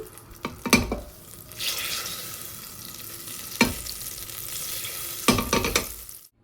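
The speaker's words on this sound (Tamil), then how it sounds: "ஸோ குக்கர் சூடானதுக்கப்புறம் பார்த்தீங்கன்னா நான் 2 பட்டர் ஆட் பண்ணுறேங்க. இது நல்லா உருகட்டும்." Butter sizzling in a hot pressure cooker, a soft steady frying hiss broken by a few sharp clanks and scrapes of a utensil against the pot, no voices.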